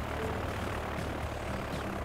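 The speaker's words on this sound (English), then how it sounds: "Right, there's our airplane." A propeller airplane engine drones steadily in the video game Transport Fever 2, a constant moderately quiet hum with no speech.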